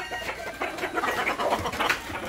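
Chickens being fed mixed feed cluck and chatter in a busy overlapping flock, close and moderately loud, with soft scratching and movement around them and no talking.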